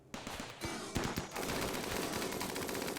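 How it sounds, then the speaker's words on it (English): Sustained bursts of automatic gunfire from an assault rifle and a minigun turret in RimWorld, a few sharp shots first and then a continuous rattling barrage, moderately loud and with no talking. "One more burst from the assault rifle then"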